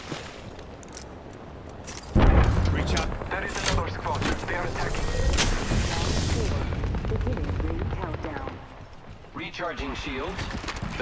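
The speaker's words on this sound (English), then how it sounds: "The enemies are shooting at me." Gunfire in the video game Apex Legends, a loud burst of shots and impacts that starts suddenly and keeps going in rapid bursts, with voice lines and other game sounds mixed in.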